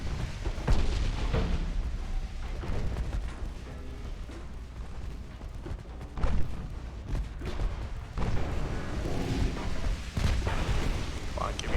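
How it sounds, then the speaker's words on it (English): A warship launches a torpedo in the naval combat game Ultimate Admiral: Dreadnoughts, with heavy booming gunfire and rumbling battle noise throughout and a sharper burst partway through. "Torpedo launch."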